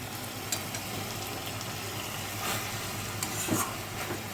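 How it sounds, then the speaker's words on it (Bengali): Chopped banana flower sautés in its own released water in a pan, giving a steady soft sizzle with a few faint scraping stirs, close and continuous, with no talking. "এখন আমি এই জলটাতে ভালো করে মোচাটাকে আগে কষিয়ে নেব"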